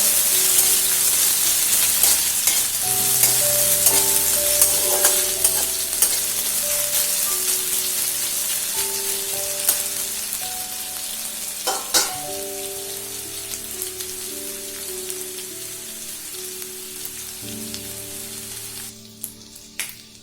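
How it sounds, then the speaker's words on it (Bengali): Grated garlic and ginger with spices fry in a hot pan, giving a continuous crackling sizzle, with occasional scraping and stirring clatters near the end. "এবার এগুলো নাড়াবো যতক্ষণ না পর্যন্ত এগুলো কাঁচা গন্ধটা চলে যাচ্ছে"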